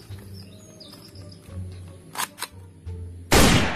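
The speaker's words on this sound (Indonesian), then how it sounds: "This is shotgun." A toy shotgun fires its electronic sound effect, a sudden loud burst at the end, after a few faint chirps and clicks over a low background hum.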